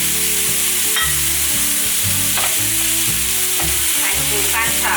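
Carrot strips, baby corn, dried tofu and vegetarian ribs are stir-fried in a wok, giving a steady sizzle with stirring scrapes under loud background music.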